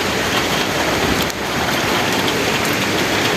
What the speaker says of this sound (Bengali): বৃষ্টি শুরু হয়েছে রে বাবা।